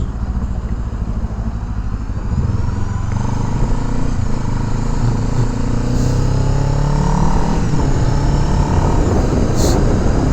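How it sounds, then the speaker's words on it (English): A Kawasaki Z7 Hybrid motorcycle rolls along off the throttle as the rider downshifts through the gears to first, its engine note close and continuous with rising and falling drone and no one talking. "So now I'm off the throttle. I can downshift, down, down, down, down to first."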